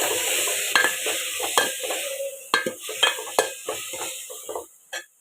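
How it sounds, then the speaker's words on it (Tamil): Tomatoes fry in a pan with onion, garlic and curry leaves, stirred with a series of sharp scraping and clattering strokes over a soft, fading sizzle, without any voices. "இப்போ தக்காளி போட்டுக்கலாங்க. நான் ஒரு 4 தக்காளி போட்டிருக்குறேங்க."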